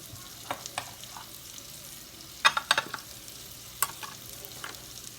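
Potatoes frying in a little melted butter in a pan: a soft steady sizzle, broken by occasional clinks and scrapes of stirring.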